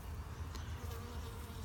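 Honeybees buzz steadily around an open hive frame with burr comb and drones among the workers, a close, continuous hum that stays fairly quiet throughout.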